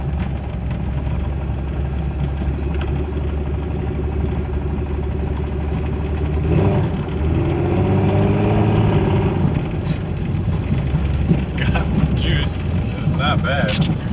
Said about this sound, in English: sounds like my engine's still there. Sounds like it's still getting fuel.